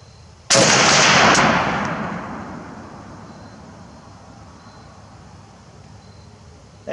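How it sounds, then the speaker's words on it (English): A single M1 Garand rifle shot cracks loud and close, followed by a long echoing decay that fades over several seconds outdoors. "That looks like it impacted on the first shot."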